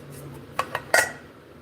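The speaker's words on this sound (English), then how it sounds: "Take the lid off, and you got a folding spoon in here." A Uline thermos lid being taken off, with a folding spoon inside giving a few bright metallic clinks and taps in quick succession, close up and otherwise quiet.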